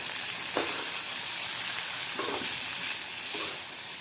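Shredded cabbage with turmeric and salt frying in a pan, a constant bright sizzle broken by three spaced stirring scrapes, close and without talk.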